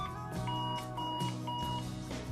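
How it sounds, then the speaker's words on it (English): A loud, repeating 113-decibel alarm clock tone pulses in a steady rhythm, several short beeps in under three seconds over a dense, buzzy background. "unique 113 decibel extra loud alarm with adjustable tone and volume control"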